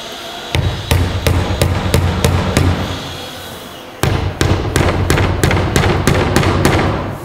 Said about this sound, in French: on va idéalement prendre un poinçon et on va le rentrer avec un poinçon